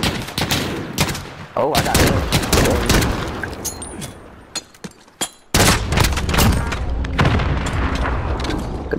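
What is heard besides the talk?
gunfire from a video game shooter match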